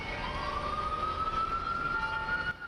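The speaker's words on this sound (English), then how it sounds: "beneath the beam of Christmas lights, sirens tell another story." An emergency vehicle siren on the streets of New York, a steady rising tone holding loud and clear over city traffic rumble, cutting off abruptly at the end.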